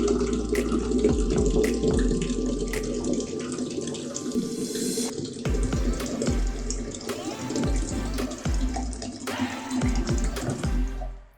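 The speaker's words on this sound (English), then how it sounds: "here are 2 examples of me pouring water into a glass" Water pours into a glass twice, a close bubbling, gurgling trickle with rising pitch as the glass fills, a short pause between the two pours.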